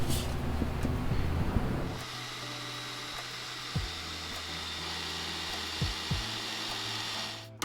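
A power drill whines steadily as it bores out spot welds in a rusted classic truck windshield frame, with short bursts of grinding and a few sharp clicks as the bit bites.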